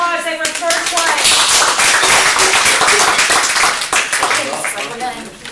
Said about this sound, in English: give them a round of applause, they were first place